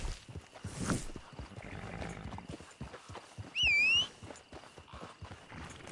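Horse hooves clip-clop at a walk in a PS4 video game, a soft continuous run of steps across the whole stretch with a brief loud burst partway through and no speech.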